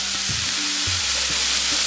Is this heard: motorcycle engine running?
no